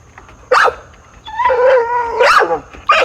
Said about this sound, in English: Shut him down, Pup.